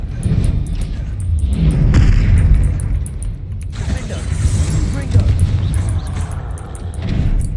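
A Confringo spell bursts in Hogwarts Legacy, giving heavy booming blasts with rumbling impacts amid game noise and voices.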